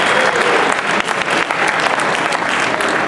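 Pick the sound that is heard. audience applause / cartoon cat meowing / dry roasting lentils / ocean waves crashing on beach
audience applause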